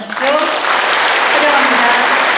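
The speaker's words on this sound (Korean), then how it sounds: "큰 박수로 맞아주십시오." Audience applause greeting a delegation of Mungyeong citizen representatives taking the stage at a town-hall dialogue with the mayor, steady and fairly loud, with an announcer's voice carrying over the clapping.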